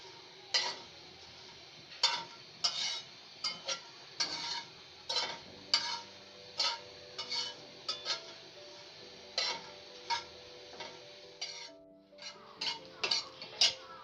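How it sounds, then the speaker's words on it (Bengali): Chillies fried slowly on low heat in a pan for homemade tomato sauce, with repeated metallic clinks and scrapes of a spoon stirring against the pan over a faint, steady sizzle; no voices. "তাই আমি অল্প আছে মরিচগুলো ভেজে নিই।"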